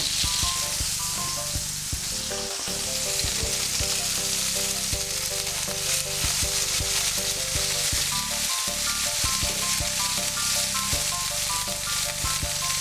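Pork tenderloin frying in a pan with tomatoes, a loud steady sizzle close up, broken by intermittent scraping and clinks of stirring.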